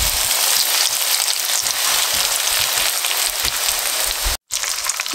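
Breaded chicken strips frying in hot oil in a pot: a dense, steady crackling sizzle, loud and close, with popping bubbles throughout and one brief silent cut near the end.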